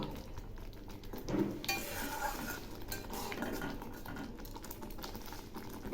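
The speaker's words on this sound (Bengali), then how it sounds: "এই মশলাগুলো খুব ভালো করে কষিয়ে নেব" Garlic paste and chili powder are stirred in a pan for a Bengali jackfruit and prawn curry, a quiet run of metal spoon scrapes and clinks against the pan with soft frying beneath.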